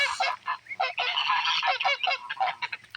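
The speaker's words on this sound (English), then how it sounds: "I'm trying to show you how big the goslings are now." Goslings honking repeatedly at close range, a busy overlapping chorus of harsh calls with brief pauses, heard alone without talk.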